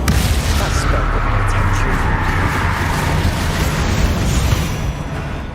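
A Bombarda spell blasts in Hogwarts Legacy, a loud, dense, rumbling explosion that roars continuously before easing slightly at the very end.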